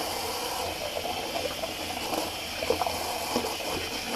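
Water running over hands to rinse off shaving soap lather, a steady close splashing wash with small gurgles and drips, alone without talk.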